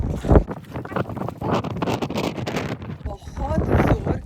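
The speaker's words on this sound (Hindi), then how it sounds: "बहुत जोर की हवा चल रही है" Strong wind gusts roar and buffet the microphone on the volcanic island of Nea Kameni near Santorini, loud and continuous, with a person talking over it.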